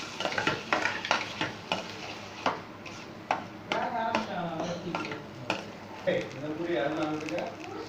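A spoon repeatedly scrapes and stirs a thick onion-tomato paste in a hot pan, with a soft sizzle of frying beneath the rhythmic strokes.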